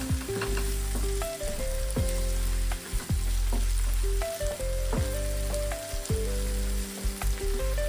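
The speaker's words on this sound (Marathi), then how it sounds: "तर एक दोन मिनिटं टोमॅटो शिजेपर्यंत हे परतवून घ्या" Tomatoes sauté in a pan for Agri-style clam sukka, a steady close sizzle punctuated by repeated rhythmic scrapes and knocks of a spoon stirring against the pan.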